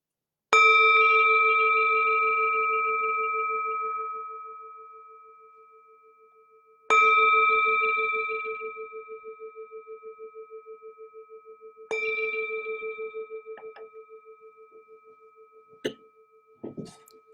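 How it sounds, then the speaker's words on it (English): A meditation bell struck three times at about five-second intervals, each strike a clear sustained ring that slowly decays with a pulsing shimmer, alone in a quiet room, followed by a couple of faint soft clicks. "We'll begin and end with the sound of the bell."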